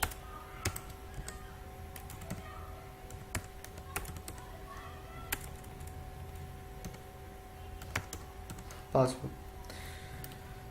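Typing a user ID and password on a computer keyboard produces sparse, faint, quiet key clicks over a low background hum, with one louder clatter near the end.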